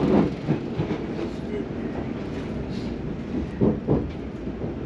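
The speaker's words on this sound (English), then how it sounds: "On one of the new adventure trains, I'll only be taking this until Limehouse." Steady rumble inside a moving c2c Aventra train heading towards Limehouse, with wheel clicks over the rails and occasional louder thumps on a constant low roar.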